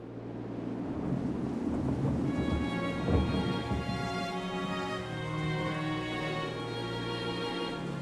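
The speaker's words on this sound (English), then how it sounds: "Heavy rains pound the stricken country." Heavy monsoon rain pours steadily in a rural village setting, a dense continuous roar with rumbling thunder rolling underneath, loud and close throughout with no voices.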